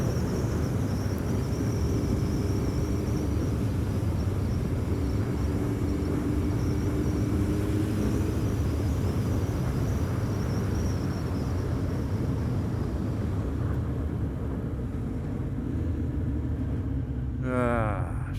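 A 1985 Suzuki GSX-R slabside streetfighter motorcycle pulls hard through first and second gear on a road, a steady loud engine drone with wind roar carrying on throughout.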